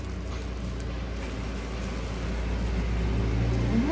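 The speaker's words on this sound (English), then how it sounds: "It's like a legit tractor going down my alley." A tractor rumbles along a residential alley, a low steady engine drone heard from indoors that swells slightly louder toward the end, with a faint rising whine at the close.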